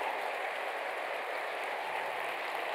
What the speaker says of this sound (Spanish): El aplauso más fuerte para